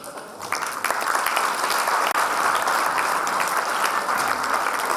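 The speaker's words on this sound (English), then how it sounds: "please put your hands together in tremendous applause" An audience at a school Model United Nations closing ceremony applauds. The clapping is dense and sustained and stays loud without a break from start to finish.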